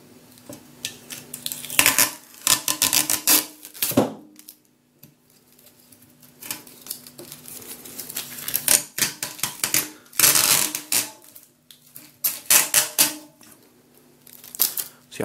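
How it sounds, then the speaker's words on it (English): Carlsberg Pilsner cans being peeled out of a plastic Snap Pack carrier: repeated close crackling plastic and tapping can clatter in bursts with short quiet gaps, no talk. "I guess I do that by peeling this up where it says open here"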